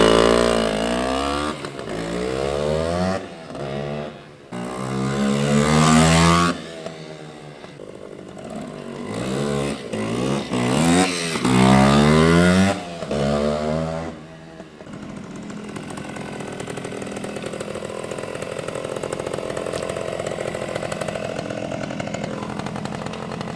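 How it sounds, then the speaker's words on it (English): A 1973 Yamaha AT3 125 motorcycle engine revs in repeated rising and falling bursts through its exhaust, loud and close, then settles into a steady, rough idle. "The exhaust note on these is sick."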